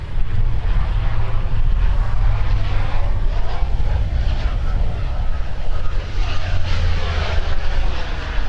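An airplane arrives on runway 12 right at Minneapolis–Saint Paul airport. Its engines give a loud, sustained roar with a steady low drone for the whole stretch.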